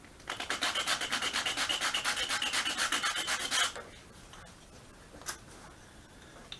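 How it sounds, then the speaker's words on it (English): Rapid, steady strokes of hand sanding with a piece of sandpaper on pendant jig pieces, rasping close and loud for a few seconds before stopping, followed by a couple of faint handling taps. "just a piece of sandpaper like this, just if you wanted to adjust them a little bit."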